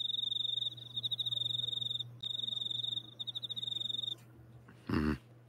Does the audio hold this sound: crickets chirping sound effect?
yes